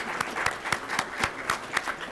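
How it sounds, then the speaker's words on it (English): Audience applause for presenters at an engineering convention, a group clapping in a loose, rhythmic pattern of distinct claps rather than a dense roar, heard fairly close. "a round of applause for our presenters"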